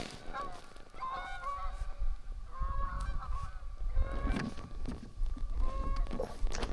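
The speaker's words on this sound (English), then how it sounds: "That's the most exciting thing we've had happen today, was a flock of geese." A flock of geese flying over a reservoir, honking repeatedly in overlapping calls at a middle distance, with soft background noise and no talk.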